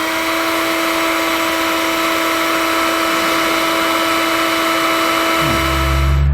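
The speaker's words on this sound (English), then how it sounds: "we can shrink down our heat shrink butt connectors with a heat gun." Heat gun blowing steadily to shrink heat shrink butt connectors on tow brake wiring, a loud continuous whirring hiss with a steady tone throughout and a low rumble added near the end.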